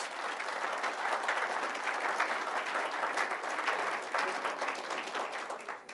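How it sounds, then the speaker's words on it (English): Sustained applause from a crowd at a real estate auction after a property is sold, a dense steady wash of clapping that holds for several seconds before easing slightly at the end. "Big round of applause"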